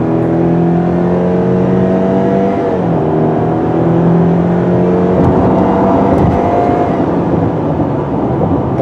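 A 2017/2018 Subaru Impreza's engine drones steadily from inside the car as it accelerates on the road, with the pitch climbing and dropping through gear changes and a constant road rumble beneath.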